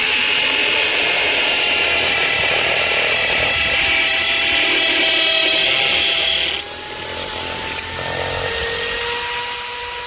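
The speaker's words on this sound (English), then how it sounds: "then you're just going to start blowing down into the hole while you drill" A power drill bores pilot holes into PVC railing with a steady, high whine that holds nearly level, then dips in pitch and loudness partway through before running on.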